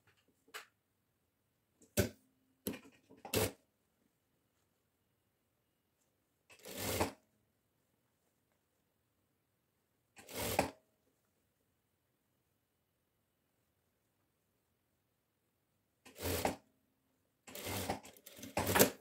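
A sewing machine stitching a shirt-dress cuff onto the sleeve, running in about seven short separate bursts, some brief and some longer, with quiet pauses between and no speech.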